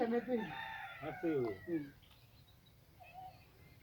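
Chickens and chicks at feeding time make clucking and crowing calls in short bursts, close and fairly loud, then fade to quiet with a faint call.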